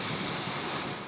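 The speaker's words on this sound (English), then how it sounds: "A repurposed Chinook helicopter enlisted to battle fires down under." A repurposed ex-US military Chinook heavy-lift helicopter used for firebombing in Victoria, heard as a loud, steady broadband roar of engines and rotors with no talk, sustained throughout the short stretch.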